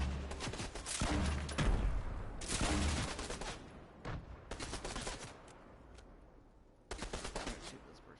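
Rapid volleys of gunfire in a Fortnite solos match, bursts of shots stacking into dense, loud fusillades with brief lulls between them.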